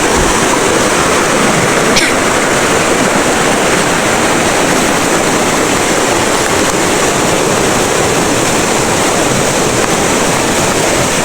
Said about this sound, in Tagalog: Ngayon dito tayo sa ilog. May malaking ilog.